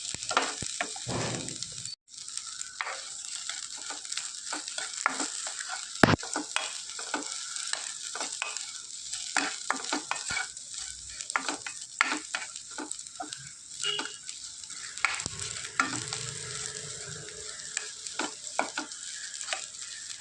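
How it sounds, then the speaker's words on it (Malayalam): Dried prawns fry in oil over a medium-low flame for mango pickle, giving a steady sizzle with frequent scraping stirs and light clicks throughout. "ഇതൊരു മീഡിയം ടു ലോ ഫ്ലെയിം ഇതിലിട്ട് നമുക്ക് ഫ്രൈ ചെയ്തെടുക്കാം നന്നായിട്ടൊന്ന് ഫ്രൈ ചെയ്തെടുക്കണം"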